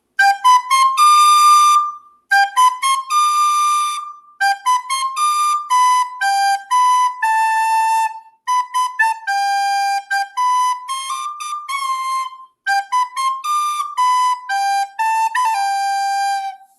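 A recorder plays a bright, breathy melody of short detached notes in steady phrases, with brief pauses between them and no other sounds.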